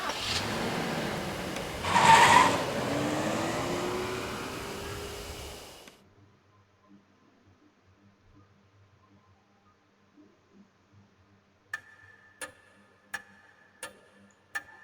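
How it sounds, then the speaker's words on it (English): A car in the video game Death Mark pulls away with a loud engine surge for about six seconds, then cuts to near silence, followed by a series of sharp, evenly spaced clock-like ticks. "We hurry all the way out and get in the car."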